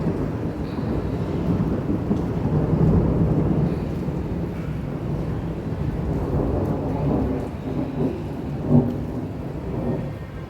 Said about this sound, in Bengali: মেঘ ডাকছে সকাল থেকে, এরকম হয়ে আছে